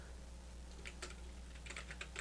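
Brief run of light keystrokes on a computer keyboard as a project name is entered in music production software, a quiet scattered patter of clicks over a steady low hum.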